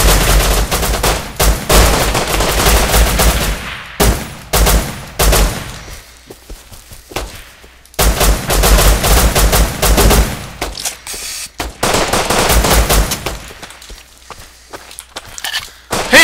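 Gunfire in the survival game Rust: loud bursts of rapid shots and footsteps, cut by short quiet gaps, close and harsh.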